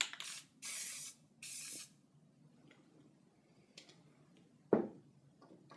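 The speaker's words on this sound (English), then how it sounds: "And now let me use the spray paint." A spray paint can hisses in three short bursts, close and loud, followed by quiet handling clicks and a single sharp knock.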